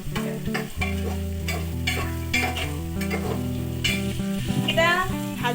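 Half-fried, skinned peanuts sizzle in a pan as they are stirred for chicken pulao, a steady close crackle with scraping stir strokes throughout and no talking.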